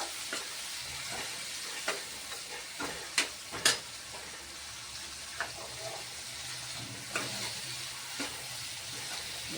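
Chopped tomatoes and whole onions cook in a pan for a Kathiyawadi onion curry. Soft, low sizzling is stirred along, with a few sharp utensil clinks against the pan.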